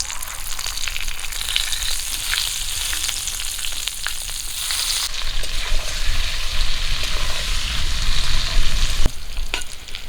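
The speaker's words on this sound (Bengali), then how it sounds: "সরিষার তেল দিয়ে দেবো গরম তেলে দিয়ে দেবো লবণ হলুদ গুঁড়ো পটলগুলো এখন দিয়ে দেবো" Pointed gourd frying in hot mustard oil with salt and turmeric, a loud, continuous sizzle with occasional scraping stirs; the crackle swells in the second half.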